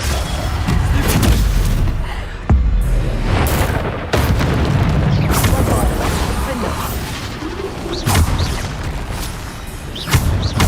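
Bombarda spell blasts in Hogwarts Legacy land as heavy, booming explosions, one after another across a chaotic, loud battle with crashes and debris, and a voice occasionally sounds beneath the din.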